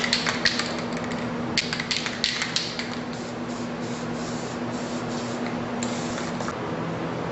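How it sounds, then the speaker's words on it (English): Permatex disc brake quiet sprayed onto the backs of brake pads during a Mercedes W124 brake job: a steady, close aerosol hiss running throughout, with a few light taps and clicks near the start. "We like to use this Permatex disc brake quiet to insulate the back of the pads."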